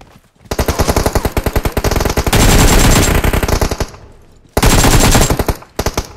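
Rapid automatic gunfire in PUBG Mobile, loud and close, with sustained bursts of machine-gun shots separated by brief pauses, no speech.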